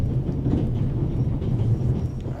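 A train from The Raven Remastered rolls along steadily, heard from the very front near the engine, with a continuous low rumble and faint rhythmic clatter and no pauses.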